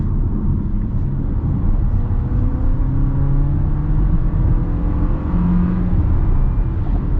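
A 2025 Jeep Compass Altitude pulls away under acceleration with a steady engine rumble and whir, its pitch rising and then dropping at smooth gear changes, heard from inside the cabin without speech.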